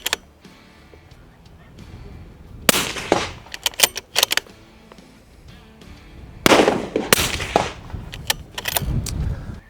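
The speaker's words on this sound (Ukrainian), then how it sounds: "зробимо кілька пострілів у дві цілі" Two sharp rifle shots at small steel targets on a precision PRS-style shooting range, each a loud crack with a short echoing tail, spaced a few seconds apart, with quieter handling clicks before and between them.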